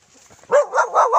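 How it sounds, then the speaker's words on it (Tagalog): A dog on a rural Philippine farm gives a few quick, loud barks close by, three or four in rapid succession after a brief quiet start. "Yan, meron silang aso."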